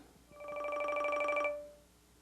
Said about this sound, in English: So that gives us the ability to basically have a ringtone on our watch when we get calls